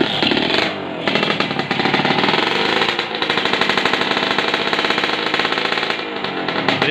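Motorcycle engine with an upgraded block running with the super cap blocked off, a loud, close, rough rapid-firing rattle that holds steady with brief dips and revs, heard alone.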